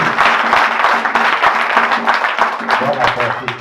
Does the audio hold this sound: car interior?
no